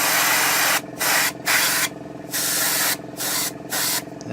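Short bursts of an airbrush misting thin coats of paint onto a 1/35 Takom British Chieftain Mk 10 model tank, steady hissing sprays broken by brief pauses, close and fairly loud with no talk.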